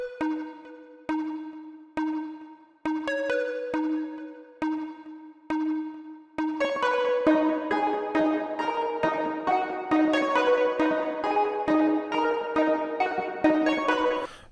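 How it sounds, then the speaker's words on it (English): A bright, breathy, aggressive flute-like synth lead in FL Studio plays a plucky repeated melody that swells into a dense, busier pattern with rhythmic accompaniment. "It's a little bit more aggressive and also has kind of like almost like a flutish type sound to it."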